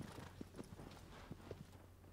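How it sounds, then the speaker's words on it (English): Faint, steady clip-clop of horse hooves in a video game, irregular soft thuds over a constant background hum, with no talking. "It's a horse!"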